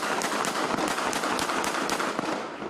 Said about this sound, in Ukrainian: Святковий салют на тому боці мають побачити за будь-якої погоди.